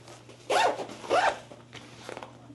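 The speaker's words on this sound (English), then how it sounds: "And then it has a zipper" A zipper on a small crossbody bag is pulled in two quick, close strokes, each a bright rasping zip, followed by faint handling rustle.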